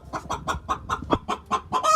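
Hens cluck repeatedly inside a barn where eggs are being gathered, one hen sitting on her nest; about nine short, close clucks come in a steady rhythm, with no talking.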